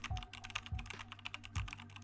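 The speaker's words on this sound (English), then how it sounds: "I'm gonna type example as my business name." Typing a business name on a computer keyboard, a quiet run of light key clicks with a few heavier thumps, close and alone, lasting about two seconds.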